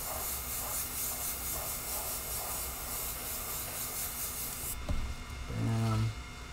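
An airbrush sprays paint over a small stencil, giving a steady airy hiss that cuts off near the end, followed by a brief clunk and a short mechanical rattle.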